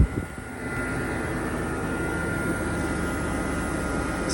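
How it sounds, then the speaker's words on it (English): A Jeep Wrangler 4xE hybrid sits in electric mode with only its AC compressor running, a steady even hum and whir with no engine note. "Right now it's on electric mode. You're just hearing the AC compressor."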